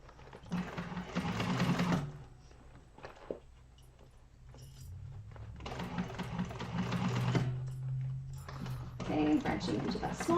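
Sewing machine stitching the lining seam of a crossbody bag, fast whirring bursts of stitching with pauses between, fairly quiet and close, with talk mixed in.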